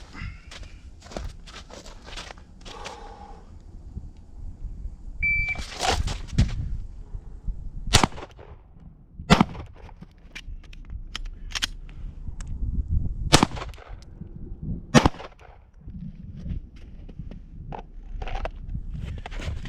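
Handgun shots during a law enforcement handgun qualification's kneeling stage crack out as sharp, separated reports, several spaced across the stretch with a reload pause, near and loud over faint shuffling.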